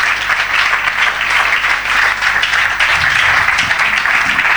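A church congregation applauds to acclaim the Lord, loud dense clapping that carries on without a break from a crowd filling the room.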